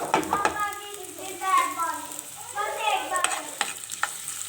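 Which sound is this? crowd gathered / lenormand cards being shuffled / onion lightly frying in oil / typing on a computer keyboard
onion lightly frying in oil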